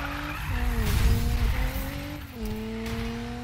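A car drifts in the Need for Speed video game, its engine roaring loudly and continuously while the tires squeal and skid, the pitch dipping briefly mid-slide.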